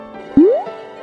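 A single bright water drip or plop, a rising liquid gulp, as someone drinks water from a river while thirsty and tired; close and brief, over a steady background hum.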